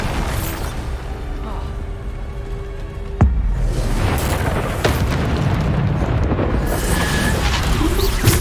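Bombarda explosion spell going off in Hogwarts Legacy, a sudden booming burst that cuts through a busy stretch of battle noise, with other spell hits and sound effects crackling around it.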